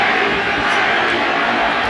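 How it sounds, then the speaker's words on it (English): A boxing arena crowd at the Pacquiao vs Morales rematch roars and chants for Manny Pacquiao, a dense, loud wash of massed voices without pause. "Pacquiao crowd chanting Manny,"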